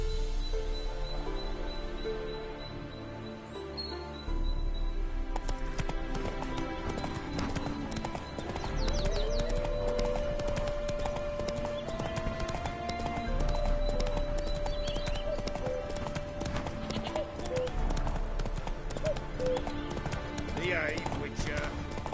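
Roach, the horse in The Witcher 3, trots with a steady clip-clop of hooves on the ground and lets out a neigh partway through, over ambient outdoor game sound with rustling and a bird.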